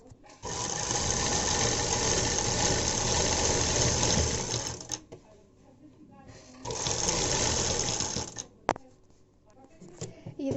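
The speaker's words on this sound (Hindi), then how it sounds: "और यहाँ से हम लेंगे अपना और ये पूरी सीधी सिलाई लगा देंगे इस तरह से टॉप में।" A sewing machine runs a straight side seam on a baby dress in two loud, close bursts of rapid mechanical whirring, separated by a quiet pause with light handling clicks.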